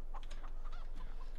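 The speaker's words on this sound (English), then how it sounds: "Oh, chickens are here as well." Chickens in Farming Simulator 17 with the Seasons mod, on Kendle Farm, cluck in short, close, repeated calls. Soft background ambience fills the gaps.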